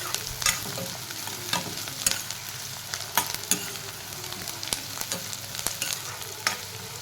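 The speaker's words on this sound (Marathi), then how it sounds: "कांदे थोडे छान शिजू द्यायचे, याला ब्राऊन होईपर्यंत" Chopped onions frying in a pan for a suran (elephant foot yam) curry, giving a continuous close sizzle broken by regular clicks and scrapes of stirring.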